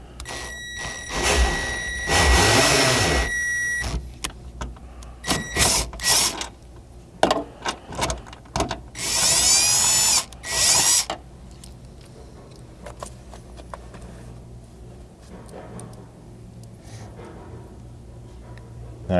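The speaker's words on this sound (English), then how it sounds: "I'm going to be using a drill to power this" A power drill with a 10mm socket tightens a nutsert bolt during a rear window MOLLE panel install on a 200 Series, whirring in two short bursts amid clicks and metallic handling noises, then quiet rustling.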